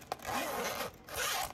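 Zipper on a two-pocket silicone pouch pulled in two quick drags, close and clear, with a short pause between strokes.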